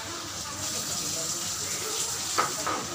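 Water poured into a container at a home during a puja gathering, a soft, faint gushing flow with a couple of brief clinks near the end.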